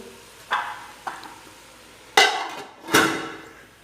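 A lid set onto a cooking pot of pumpkin boiling with salt and oil: two light taps, then two louder clanking placements with brief ringing, close by and without talk.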